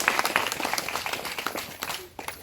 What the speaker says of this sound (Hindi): इनके लिए जोरदार तालियों से स्वागत और